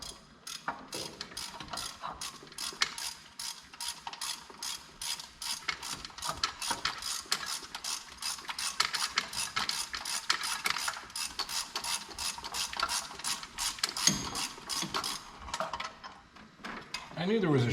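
Ratchet clicks rapidly and steadily, close up, as it loosens a bracket bolt on a Silverado power steering pump, a long run of fast clicking with brief pauses.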